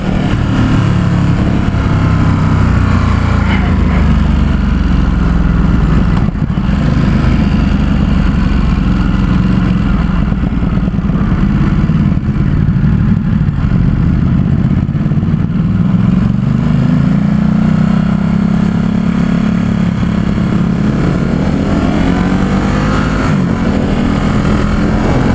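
A 2017 Ducati Supersport S motorcycle accelerates hard on a San Francisco test ride, its loud engine roaring steadily close by, with the pitch rising and falling as it pulls through the gears.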